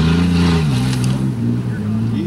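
A mega mud jeep engine roars as it drives into a big mud hole, loud and sustained with rising and falling revs, close by, with the engine drone filling the whole stretch.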